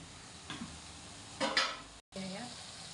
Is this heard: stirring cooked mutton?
yes